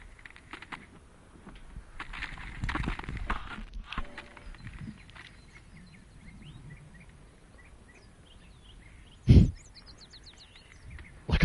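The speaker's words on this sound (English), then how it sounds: "Like all the bird sounds." Bird calls in the video game Metal Gear Solid V: faint scattered chirps and tweets over a quiet outdoor ambience with soft footsteps and rustling, punctuated by one loud thump near the end.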